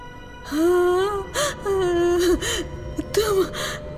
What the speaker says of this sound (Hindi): किसी के रोने की आवाज आने लगी।